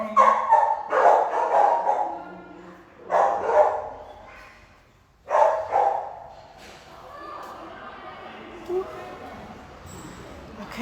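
Small and medium dogs at an animal shelter bark in loud, repeated bursts, three clusters of sharp yaps separated by short gaps, then quieter whimpers and shuffling.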